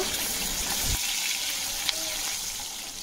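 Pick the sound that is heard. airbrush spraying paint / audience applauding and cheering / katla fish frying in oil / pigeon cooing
katla fish frying in oil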